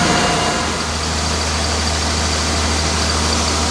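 A tractor engine idles nearby with a steady low rumble and constant hum, running evenly without revving.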